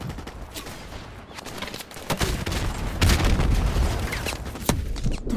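A grenade launcher fires in Call of Duty: Modern Warfare amid constant gunfire: repeated sharp bangs and booms over dense, loud battle noise throughout.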